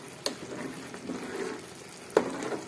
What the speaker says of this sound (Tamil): நல்லா கொதிச்சிடுச்சு.